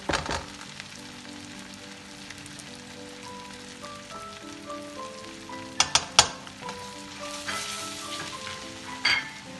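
Black chickpea curry base sautéing in a pan, a steady close sizzle and crackle of frying with a few sharper spatula scrapes and clinks midway, no voices.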